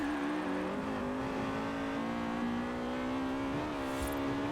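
A rear-wheel-drive Honda Prelude's VTEC engine holds a high steady rev in Forza Horizon 4, a loud continuous buzzing drone with slight pitch wobbles and no talking.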